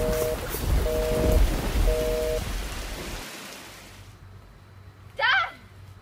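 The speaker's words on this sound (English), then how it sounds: "Ah, a storm!" Rain pours heavily in a thunderstorm with deep rolling rumbles, loud and steady for about three seconds before dropping to a quieter hush, then a short voiced cry near the end.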